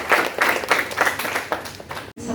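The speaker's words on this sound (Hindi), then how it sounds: "तमरीना के लिए तालियां।" Audience applause for a poetry recital at a World Mental Health Day celebration, a short burst of loud, pulsing clapping that fades and cuts off abruptly after about two seconds.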